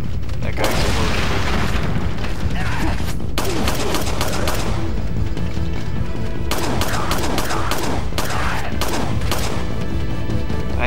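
In Resident Evil 4 (Separate Ways), an enemy explodes amid dense, continuous gunfire and booming blasts. Loud, rapid shots and thuds fill the scene throughout.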